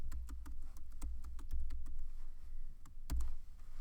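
Typing on a computer keyboard while entering a spreadsheet formula, a run of close, crisp key clicks in an uneven rhythm, with a few louder taps standing out against a low hum.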